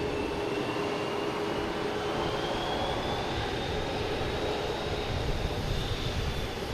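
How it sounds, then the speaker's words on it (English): A Delta Embraer E175 airliner comes in to land at Boston Logan, giving a steady, broad roar with a faint rising whine, continuous and moderately distant, with no voices. "We have Delta and E175 coming in"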